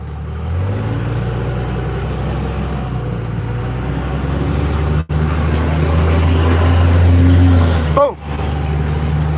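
A truck engine idles and revs steadily near the microphone, and people talk over the loud continuous rumble.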